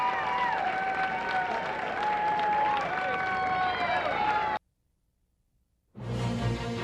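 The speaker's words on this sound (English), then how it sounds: "You hear the crowds roar." A golf gallery at the 2002 U.S. Women's Open final round roars and applauds steadily and loudly, then drops to near silence before another noisy swell of sound returns at the end.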